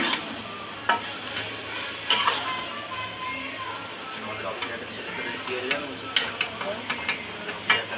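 A spoon scrapes and clicks against a pan while fish coated in spice paste sizzles steadily underneath, the stirring coming as irregular close taps over continuous frying hiss.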